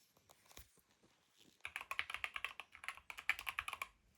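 Typing on a Keychron Q1 HE mechanical keyboard, a quiet start of scattered taps giving way to a steady run of crisp, fairly fast keystrokes close up, with no talking.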